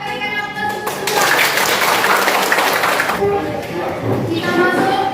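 Applause from a class of students, a dense burst of clapping that swells, holds steady for a few seconds, then thins out.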